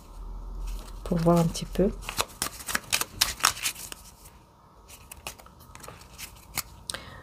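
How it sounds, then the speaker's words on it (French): Oracle cards being shuffled and drawn, quick papery riffles and snaps in bursts under someone speaking French, with a brief low hum near the start. "je prends une carte avec mon oracle"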